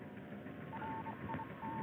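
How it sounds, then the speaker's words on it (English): Morse code beeps from a 1950s science-fiction film: a short run of thin, faint tone pulses in an uneven dot-dash rhythm over a steady hiss, with no talk. "is the Morse code coming from?"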